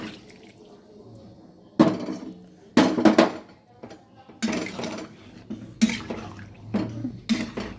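Hot water is poured into a soybean chunk curry in a cooking pot, with splashing bursts and clinks of the vessel coming in short, repeated spurts.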